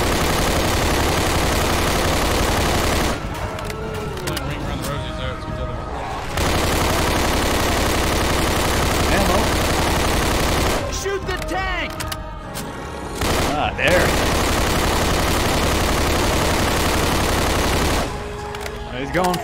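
Dense, loud gunfire from several survivors shooting at the Tank in Left 4 Dead 2, nearly continuous rattling volleys with a few brief pauses, close and overpowering.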